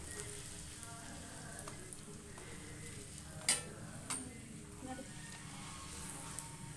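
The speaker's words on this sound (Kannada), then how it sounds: "ಚೆನ್ನಾಗಿ ಪೂರಿ ಬರುತ್ತೆ ಉಬ್ಬಿ ಎಣ್ಣೆ ಮಾತ್ರ ಚೆನ್ನಾಗಿ ಕಾದಿರಬೇಕು" Poori deep-frying in hot oil gives a faint, steady sizzling hiss, broken by a couple of brief sharp clicks partway through.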